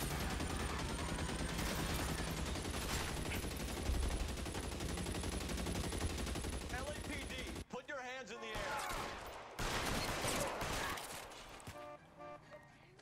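Sustained, loud machine-gun fire rattles in dense bursts during a car chase in the video game LA Noire, breaking off into engine and chaotic game sounds with occasional voices.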